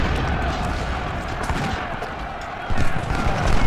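Artillery fires in a Civil War strategy video game, a sustained rumble of distant booms and crackling gunfire rolling in waves, growing heavier toward the end with a voice speaking over it.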